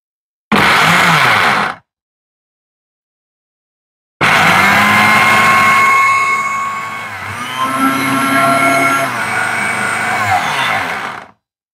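New 3-in-1 kitchen blender switched on in short bursts, first a brief loud whir that stops dead, then after a pause a long, high, whining motor run that shifts in pitch as the contents churn, close and loud.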